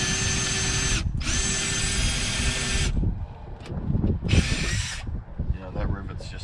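A drill bores out a window regulator rivet on a 1998 Ford Explorer 4.0, whining loudly in two bursts with a short gap between, then a third shorter burst among clunks and handling noise while the rivet spins.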